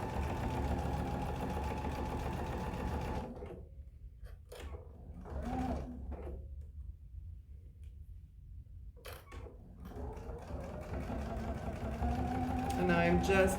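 A sewing machine stitches a cup storage caddy in steady whirring bursts, stopping and starting between runs, close by with a person talking over and between the stitching.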